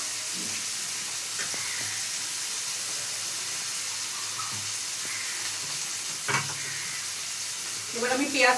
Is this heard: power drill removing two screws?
no